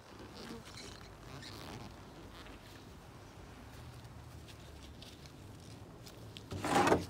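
A low, steady hum from a swarm of about 100,000 bees in a backyard, soft and constant throughout, with a closer, louder buzz passing near the end.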